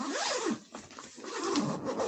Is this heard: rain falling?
no